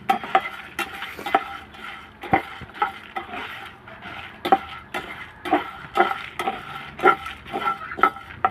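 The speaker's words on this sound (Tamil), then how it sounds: "இப்போ இது எல்லாத்தையும் நல்லா வறுத்து எடுத்துக்கிறேன்." Spices are dry-roasted and stirred in a pan for a lady's finger masala, with a spoon scraping and clinking against the metal in a regular rhythm over a faint sizzle.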